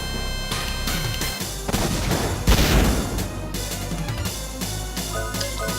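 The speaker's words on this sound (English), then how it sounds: "I just want to constantly use hand cannon that deals 100 and something damage" Hand cannon gunfire from the video game Wild Arms, heavy booming shots and a crashing burst layered over a dense, sustained game soundtrack, loud and continuous with no talking.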